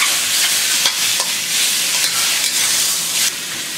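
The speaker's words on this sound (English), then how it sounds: "So put the squid in there." Squid stir-frying with ginger in a hot pan over high heat, a loud, steady hiss and sizzle with faint stirring scrapes, close and continuous, without talking.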